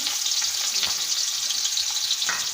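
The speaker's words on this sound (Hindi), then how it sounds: "अब हम इसमें कटे हुए प्याज डाल देंगे।" Chopped onions frying in hot ghee for daal mash crackle and hiss in a dense, close sizzle, with a couple of brief stirring knocks.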